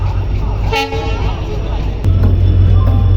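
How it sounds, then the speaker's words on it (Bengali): A train pulling into a platform at a railway station in Kerala sounds a short, loud horn toot near the start, then the rumble of the train and the station carries on under nearby voices. "এই যে ট্রেনটি মাত্র প্ল্যাটফর্মে ঢুকতেছে।"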